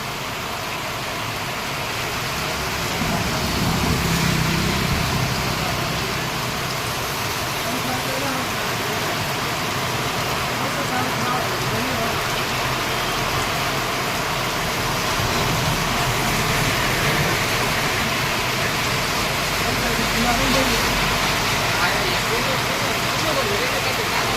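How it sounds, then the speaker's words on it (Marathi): Continuous rain hisses over a busy main square in Niphad, India, with water pooling on the road, a low traffic rumble and muffled activity underneath. "पाऊस चालू आहे आता सध्या"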